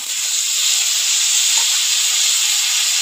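Vegetables hitting a hot pan for a Bengali raw mango tok with parshe fish, giving a steady, fairly loud hiss and sizzle that holds evenly throughout with no talking.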